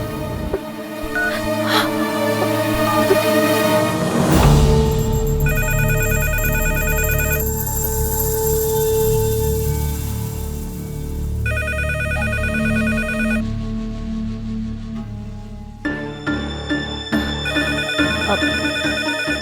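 A telephone rings repeatedly on an outgoing call, a steady electronic ring tone with regular repeating bursts, heard clearly over background music and no talk.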